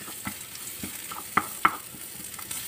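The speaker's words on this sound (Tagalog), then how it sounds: "I-prito-prito natin yung natirang sibuyas pang decorate." Soft sizzling of onions frying in a pan, with a few sharp pops and stirring scrapes over a steady background hiss.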